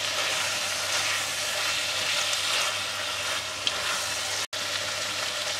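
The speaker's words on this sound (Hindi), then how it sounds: "दो तीन मिनट मैंने फ्राई कर लिया कीमा" Minced meat frying in a pan sizzles steadily and fairly loudly, a continuous crackling hiss with one small tap near the end and no voices.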